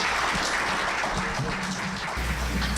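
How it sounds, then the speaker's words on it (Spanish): An audience welcomes a speaker at a law lecture in Mexico with steady, dense applause that fills the room throughout, with a faint voice underneath. "les vamos a pedir un aplauso para recibirlo"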